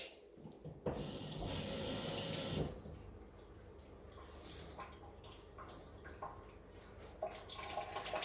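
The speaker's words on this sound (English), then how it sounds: "Okay, I just poured a little bit of water on it." Water is poured onto a clean kitchen cloth to dampen it, a steady splashing pour lasting about two seconds followed by quieter trickles and drips in a home kitchen.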